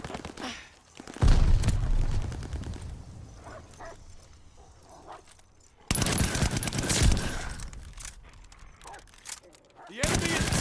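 Gunfire bursts in Call of Duty Vanguard multiplayer, likely the Vargo-S rifle, loud and dense in two stretches with a quieter gap between, under in-game announcer voice lines.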